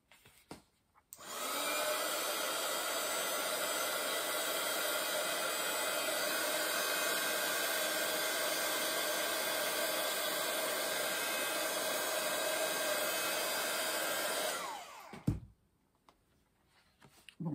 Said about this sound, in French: Je vais sécher et on va recommencer. N'est-ce pas? Donc mon séchoir.